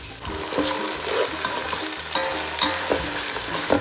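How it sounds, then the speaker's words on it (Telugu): Onions frying with ginger-garlic paste in a biryani pot give a loud, steady sizzle close by, broken by repeated stirring scrapes throughout, with no speech. "ఎర్రగడ్డ ఇలా వేగిపోయినాక దీనిలో కూడా అల్లం పేస్ట్ వేసుకోవాలి"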